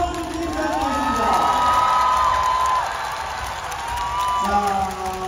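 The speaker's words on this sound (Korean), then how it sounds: "자, 우리 오랜만에 다가오는 수원 소프리아 선수와 다시 한번 다가오는 박수 한번 드리도록 하겠습니다." Arena crowd at a basketball game cheering and applauding a returning player, a broad roar with shouts and whistles, loud and continuous under an announcer's amplified voice.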